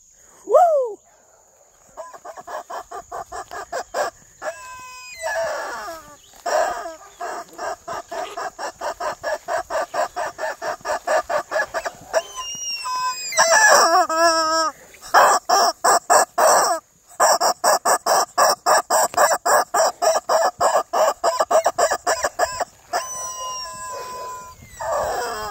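Chickens on a homestead cluck steadily and loudly close by, with rising rooster crows breaking in now and then, while someone talks intermittently over the flock.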